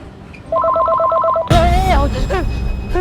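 A telephone rings in repeated double-tone bursts indoors at a family meal, loud and close, then a voice breaks in and speech takes over.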